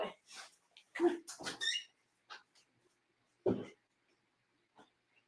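A puppy gives short whimpers and small throaty huffs, close by and in bursts separated by silence.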